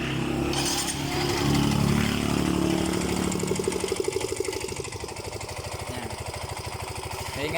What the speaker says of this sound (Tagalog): Maingay ang kanyang connecting rod,